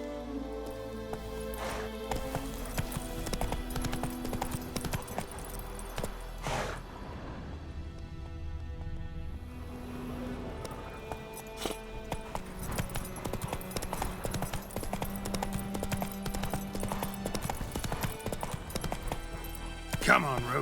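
Roach the horse's hooves clop in a quick, steady rhythm in The Witcher video game, close and fairly quiet over game music and ambience, with a voice speaking over it.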